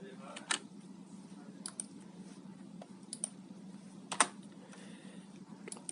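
Light typing and clicking on a computer keyboard in a quiet room, irregular close keystrokes with a few sharper clicks, faint under a low background hum.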